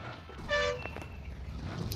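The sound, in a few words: vehicle horn in video game BGMI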